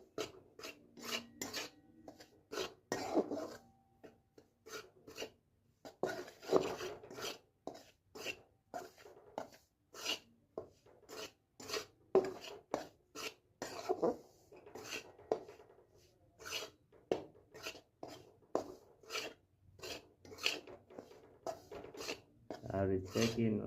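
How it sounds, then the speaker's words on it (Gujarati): A spoon stirs semolina roasting in a pan, making repeated close scraping and rasping strokes against the metal in an uneven rhythm. "આ રીતે શેકીને મસ્ત હલાવી નાખવાનો"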